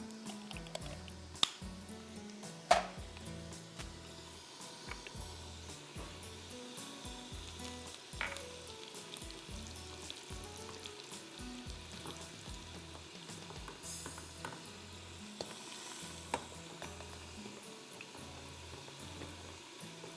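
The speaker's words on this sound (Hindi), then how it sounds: "फिर हम इसमें डालेंगे कड़ी पत्ता" Curry leaves hit a hot pan for a curry patta gosht dish, giving a steady close sizzle and frying crackle with light stirring scrapes and a couple of sharper pops.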